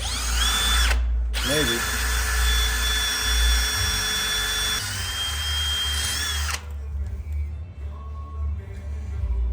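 A power drill runs on a Ford F650 truck, a loud, steady high-pitched whine lasting several seconds after a brief start, then stopping, followed by a short spoken word and quieter workshop noise.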